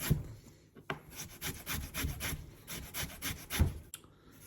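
Horseradish root is rasped finely against a grater for piccalilli, a run of quick, even scraping strokes in steady rhythm, close and fairly quiet, with a brief pause near the start and another near the end.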